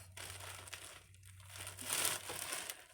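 Paper money, a $50 bill, being cut in half for a money bouquet, giving a steady close crinkling and rustling of the note under the blades, with a low hum underneath and a brighter snip near the end.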